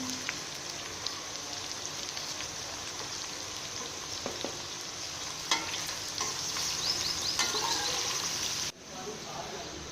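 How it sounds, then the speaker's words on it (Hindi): Onions fry in a pan until golden brown for chicken biryani, a steady close sizzle with occasional stirring clicks throughout, cutting off sharply near the end. "प्याज़ों को हम गोल्डन ब्राउन होने तक फ्राई करेंगे।"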